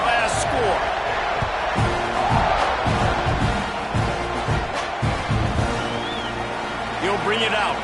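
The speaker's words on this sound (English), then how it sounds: "this crowd is buzzing after that last score" Football stadium crowd buzzing after a touchdown and extra point, a dense continuous roar of many voices with scattered shouts and claps, loud and steady throughout under an announcer's talk.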